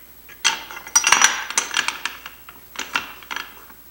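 Metal tubing clacks and rattles as it is set and clamped into a tubing notcher, a run of sharp, close metallic clinks and taps in irregular bursts with no talk.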